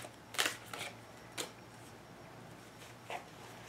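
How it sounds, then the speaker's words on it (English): Tarot cards are shuffled clumsily by hand in a few short, scattered riffles and slaps, close and fairly quiet over a low steady hum, with no talking. "Forgive my odd shuffling"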